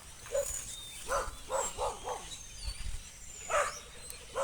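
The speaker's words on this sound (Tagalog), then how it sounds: "may mga aso pa mga kalakad," Dogs bark in a quick series of short yaps, then again a little later, at moderate distance over steady outdoor background noise in a remote grassy area near cornfields.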